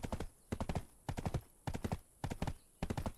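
Hooves of a horse in Black Desert Online wearing premium skin armor clip-clop in steady groups of quick, close, crisp beats, with no other sound between the strides.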